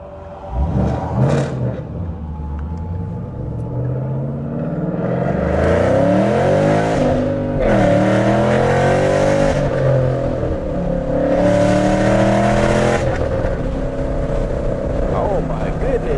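Ford Mustang GT driving fast, its engine surging and revving in repeated rising waves with a loud, steady rumble, while people talk over it throughout.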